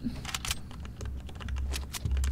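Rapid clicking keystrokes on a compact small computer keyboard, irregular bursts of taps close up with a low background hum during a Fortnite session.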